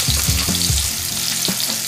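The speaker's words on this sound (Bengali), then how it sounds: "আলুটাকে আমি ভালো করে ভেজে নিচ্ছি" Potatoes frying in a pan of hot oil with turmeric and salt, a loud, steady, close hiss and sizzle that runs unbroken, with faint low clatter and bumps from stirring, no talking.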